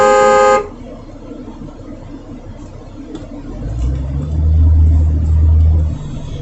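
A car horn honks twice in long, loud blasts while sitting at a yellow flashing light, over a low idling engine rumble inside the vehicle.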